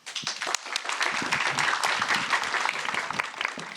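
Audience at an urban resilience panel event applauding, a steady, dense wash of clapping from many hands that starts sharply and carries on through the whole stretch.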